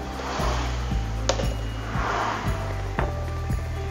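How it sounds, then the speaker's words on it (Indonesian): A hammer drives a screwdriver against a loose chainsaw clutch during maintenance, giving a few sharp metallic taps at irregular intervals over a low steady hum, close and fairly loud, with no talking. "ini langsung saja kita ketuk menggunakan dray dan palu"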